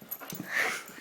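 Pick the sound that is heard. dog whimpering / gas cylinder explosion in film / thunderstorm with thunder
dog whimpering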